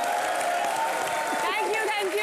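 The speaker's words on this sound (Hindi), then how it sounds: "अनुष्का के लिए जोरदार तालियां हो जाए जरा" Studio audience applause on the Indian TV comedy show Comedy Nights With Kapil, a steady wash of clapping from a live crowd that fills the whole short stretch at an even level, mixed with other sound from the set.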